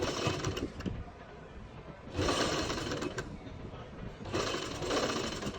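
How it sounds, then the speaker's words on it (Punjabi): A sewing machine stitches seams along frock fabric in three sustained bursts of rapid, steady running, each separated by a short pause, close and fairly loud. "ਤੁਸੀਂ ਸਾਰਾ ਕੱਪੜਾ ਬਰਾਬਰ ਕਰ ਇਹਦੇ ਉੱਪਰ ਇੱਕ ਇੱਕ ਸਲਾਈ ਲਾ ਲੈਣੀ"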